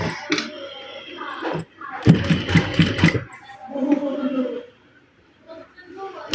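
A sewing machine stitches fabric in one short, rapid mechanical run of about a second, with someone talking before and after it.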